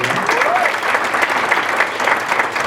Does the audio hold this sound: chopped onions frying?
no